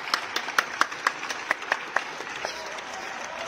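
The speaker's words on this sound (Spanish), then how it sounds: "¿Aplaudes tú también?" Sparse applause from a small group, a dozen or so sharp claps spaced irregularly, fading to a few scattered hand claps.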